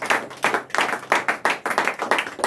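A church congregation claps together to acclaim Jesus Christ, a run of quick sharp claps in irregular clusters from a group nearby, with no talking over it.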